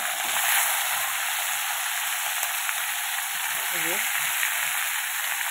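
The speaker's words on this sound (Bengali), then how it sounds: "সবজিগুলো আগে ভেজে নেবো, পুঁইশাকের ডাঁটা, কুমড়ো, বেগুন, আলু," Malabar spinach stems, pumpkin, eggplant and potato fry in hot oil with bay leaf, giving a loud, steady broadband sizzle throughout, close up, with a brief voice murmuring beneath.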